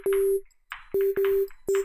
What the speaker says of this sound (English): Another sound that gets used in digicore beats often, and one that's also really easy to make, is a bitcrushed sine wave.